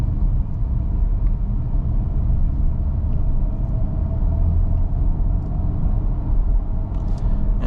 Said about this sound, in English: turbocharged 4-cylinder under the hood, along with our electric help from the plug-in hybrid setup.